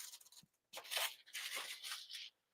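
Tissue paper crinkling and rustling as a planner subscription box is unpacked, in several loud close bursts separated by short pauses, no voices.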